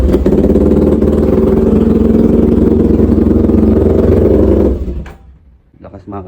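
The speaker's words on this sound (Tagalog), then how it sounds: "Panda rin natin para marinig nyo yung pipe nya." Motorstar Cafe 400 cafe racer motorcycle running near its exhaust pipe, a loud, steady rumbling idle for about five seconds before the engine cuts off, leaving brief faint noises.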